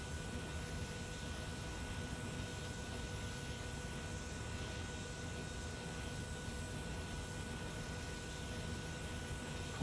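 Auxiliary power unit of a C-160 transport aircraft in Microsoft Flight Simulator 2020 runs on the ground with a steady, even whine and broadband hum, unchanging and moderately quiet throughout.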